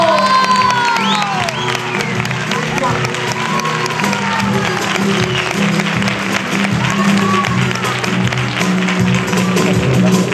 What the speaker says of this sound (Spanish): María la Tejerilla, un aplauso